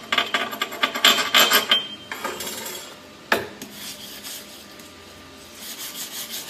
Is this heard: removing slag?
yes